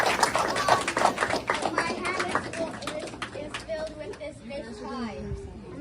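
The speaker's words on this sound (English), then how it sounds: "Please give them a round of applause as they entertain us." Audience applause for children about to sing the African Union Anthem at an office opening event, dense clapping starting loud then thinning out, with voices and chatter rising through the later part.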